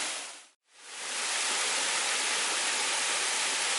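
The Pingón El Caneyu waterfall in Piloña, Asturias roars as a steady broadband wash of falling water, close and loud, after a brief dip to silence at the start.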